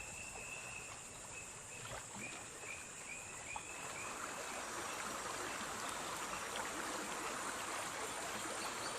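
A river in Gabon flows with a constant soft rush and gurgle, heard up close and fairly quiet, with no voices.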